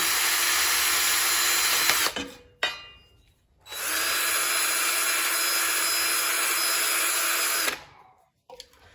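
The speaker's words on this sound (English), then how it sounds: "This is just a little wire brush attachment to the drill." A power drill with a wire brush attachment cleans a mower blade, whirring with a harsh scraping grind, stopping briefly twice before a long continuous run, close and loud.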